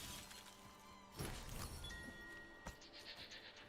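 A blood glass jar shatters in Blasphemous II, a bright crash of breaking glass followed by scattered tinkling shards and a second smaller clink, set over faint game ambience.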